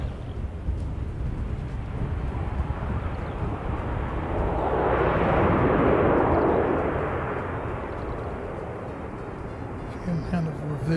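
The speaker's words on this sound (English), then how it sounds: "Kind of reverse thrust on that one." A landing aircraft's engines go into reverse thrust, a broad roar that swells to a peak midway and then slowly fades, loud and alone.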